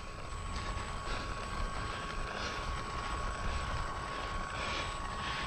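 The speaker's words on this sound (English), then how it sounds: "It was a hairy takeoff, turned to the left on me." An E-Flite P-51D radio-controlled model plane takes off from a grass field, its electric motor and propeller giving a steady, fairly distant whine with no voices.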